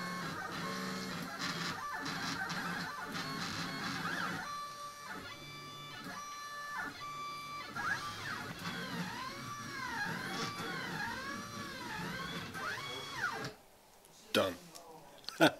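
A low-cost homemade XY table CNC machine runs a test pattern, its stepper motors whining in changing pitches and sweeping tones with ticking moves, fairly quiet and near, ending in a few clunks as it stops.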